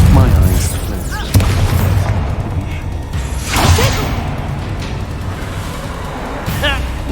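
A spell cast in the Hogwarts Legacy video game lands with loud booming impacts and sweeping whooshes, the blasts rolling on over a dense, rumbling battle backdrop.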